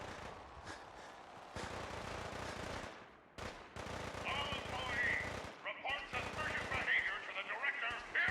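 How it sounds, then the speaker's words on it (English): Gunfire in the Fallout 4 video game during a firefight at a galleria, rapid bursts of shots crackling continuously and loudly over background game sound for several seconds, with a voice talking at times. "There's shooting here?"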